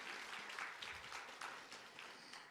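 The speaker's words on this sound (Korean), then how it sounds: "우리 월십팀에게 다시 한번 뜨거운 박수 한번 보내주시겠어요?" A church congregation applauds the worship team during a Sunday service, a faint, steady spatter of clapping heard from a distance.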